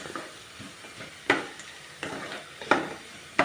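Spices tempering in hot oil for an aloo masala curry sizzle steadily in a pan, with sharp spatula scrapes and stirring clatters landing about every second, close and moderately loud.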